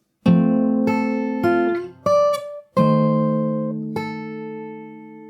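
Fingerstyle acoustic guitar plays an opening phrase of the Animal Crossing New Horizons theme, about six plucked notes and chords, each ringing out clearly before the next, with no voice over it.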